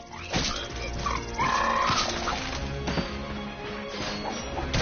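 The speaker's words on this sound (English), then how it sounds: "Look at him smashing crates." Crates smash in the Ratchet & Clank video game as a string of sharp cracks and thwacks, mixed with game effects and small creature yelps over a busy, steady background.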